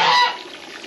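One loud, close honk from a farm goose by the water, brief and harsh, fading quickly into quiet.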